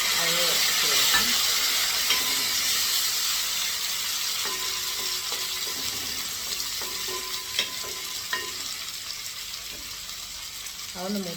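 A small tomato frying in hot oil in a pan for a fish curry, giving a soft, continuous sizzle with occasional faint stirring clicks throughout.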